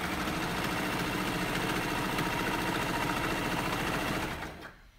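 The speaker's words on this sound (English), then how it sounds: "So I'm just sewing down the back." Sewing machine stitching the back seam of a knit sweater cardigan, a steady close whirring drone of rapid needle strokes that runs evenly and then winds down at the end.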